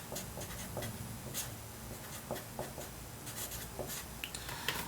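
Pen or marker scratching across paper while a math solution is worked out step by step, with short strokes in an uneven rhythm, close and fairly quiet, without speech.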